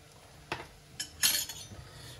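A spoon stirs bean stew with asparagus, cockles and prawns in a pot, making a few quiet metallic clinks and scrapes against the pot in short bursts.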